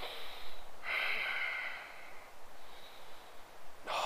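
Deep breathing during an advanced yoga workout outdoors: two long, close airy exhales, with a sharper breath at the end, no talking.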